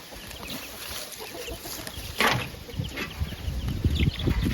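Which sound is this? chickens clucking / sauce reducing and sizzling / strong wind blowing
chickens clucking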